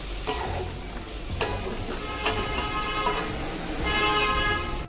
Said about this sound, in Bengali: তেলের সাথে মাংসটা ভালোভাবে একটু মিশিয়ে নিই